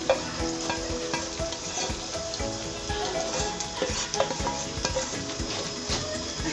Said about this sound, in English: I'm going to saute this till it turns dark red